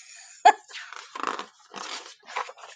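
A dog gives a short sharp bark followed by a few rougher, gruffer barks, close and fairly quiet.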